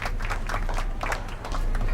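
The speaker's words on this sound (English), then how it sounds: "How about a round of applause just for the heck of it?" A crowd claps and cheers in a steady, dense burst of applause lasting the whole moment, fairly loud and close, in the Back to the Future video game.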